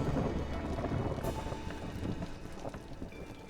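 A thunderstorm rolls in during the colony-building game Against the Storm: steady rain and wind hiss over a low, continuous rumble of thunder, loudest at the start and easing slightly toward the end.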